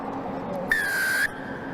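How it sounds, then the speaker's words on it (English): A single sharp referee's whistle blast at a rugby match, about half a second long, shrill and steady over the murmur of crowd noise. "Just wait for the whistle."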